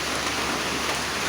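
Steady rain pours down in a dense, even hiss, close and unbroken throughout with no voices.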